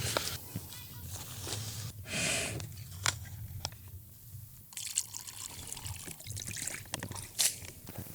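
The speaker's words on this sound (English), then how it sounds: "filling these up with water so I can place them in the sun" Lake water is poured to fill containers at a tent campsite, close, quiet trickling and splashing in irregular bursts with occasional louder gushes and small knocks.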